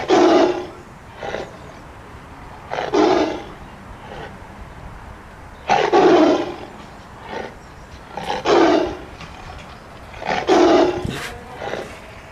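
A tiger roars repeatedly, five or six deep, loud bursts spaced a couple of seconds apart with quieter grunting breaths between them, close and clear with no talk.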